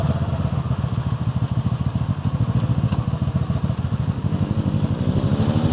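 A motorcycle in fourth gear slows at about 53 kph using engine braking and the rear brake only, giving a loud, steady, pulsing engine drone that carries on without talk.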